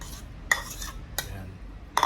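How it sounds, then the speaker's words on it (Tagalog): Squid kinilaw being mixed with calamansi and vinegar in a bowl, three or four sharp utensil clinks and scrapes spaced apart over a quiet background, with no voices. "I-mix yung maigit para maluto siya."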